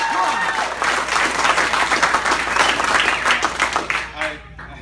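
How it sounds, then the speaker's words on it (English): An audience at a BMW qualifiers event breaks into applause, a loud, full burst of clapping that swells and then tapers off near the end, with a voice speaking over it. "People clap for that."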